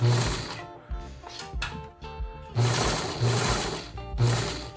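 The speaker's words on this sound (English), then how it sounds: "sew right along the edge of that 1/8 inch serging line" A sewing machine stitches along the serged edge of a homemade surgical mask seam, its needle clattering in a fast steady rhythm close up, running in several bursts with brief pauses and no talk.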